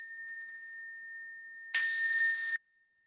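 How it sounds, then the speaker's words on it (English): A meditation bell at a Buddhist service rings with a steady, sustained tone, then a brief brighter burst of ringing, followed by quiet. "So we'll let the bell transition us into a meditation."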